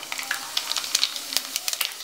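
Mustard and cumin seeds crackle and pop in hot oil, a lively run of sharp, irregular spits over a soft sizzle, close and fairly loud.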